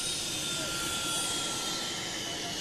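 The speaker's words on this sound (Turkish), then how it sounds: "İki futbolcuyu taşıyan özel uçak Atatürk Havalimanı'na iniş yaptı" A private plane lands at Atatürk Airport, its engine making a steady broad roar that stays loud throughout, with a faint whine running through it.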